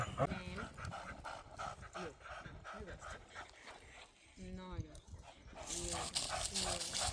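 A leashed dog pants steadily on a forest hike near Tatabánya, Hungary, with quick breaths running under near, continuous talk and the occasional footfall.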